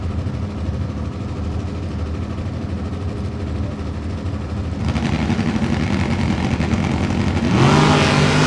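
A 1972 Oldsmobile drag car with a 455 cubic inch engine accelerates at the strip, a steady engine roar that swells louder midway and surges again with a rising rev near the end.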